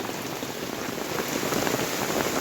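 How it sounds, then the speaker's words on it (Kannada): Heavy rain pours down in a hilly village area, a dense, loud, steady hiss of drops on surfaces throughout, with no voices. "ನೋಡಿ, ಮಳೆ ಮಾತ್ರ ಎಷ್ಟು ಜೋರಾಗಿ ಬರ್ತಿದೆ ನೋಡಿ."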